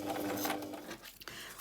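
A sewing machine stitching through paper pieces for a December daily album: a short, close, fast mechanical whirring run that stops abruptly and is followed by a brief rattle.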